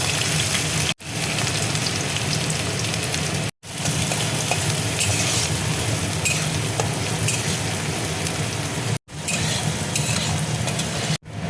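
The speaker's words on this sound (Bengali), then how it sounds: "পেঁয়াজটা দেখো হালকা করে ভেজে নিয়েছি" Chopped onion frying in mustard oil in a wok, a loud, dense, close crackling sizzle that carries on steadily apart from a few abrupt short gaps, with no one speaking.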